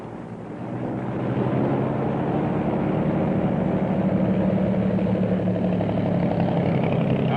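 A twin-engine airplane's engines drone steadily before takeoff, a loud, continuous low rumble with layered propeller hum that swells slightly in the first second and then holds even.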